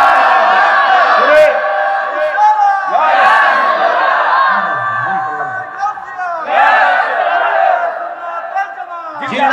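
A large crowd at an outdoor religious gathering in Comilla loudly chants the takbir in unison, several sustained swelling shouts separated by brief pauses, with a voice leading between them.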